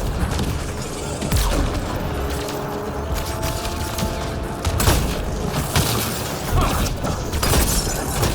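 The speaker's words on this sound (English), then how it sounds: "I like that shotgun" Shotgun blasts in the video game Mass Effect Andromeda ring out amid dense combat noise. Booms and shattering impacts are loud and continuous, with several sharp bursts.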